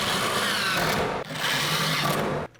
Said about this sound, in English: I'm just gonna use some 1-inch number 8 screws to mount the box with the flange.